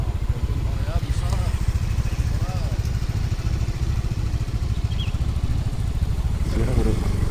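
A motorcycle engine runs close by with a steady, rough, buzzing drone at a camping ground in Cikole, Lembang, Bandung, continuing without a break while people talk over it.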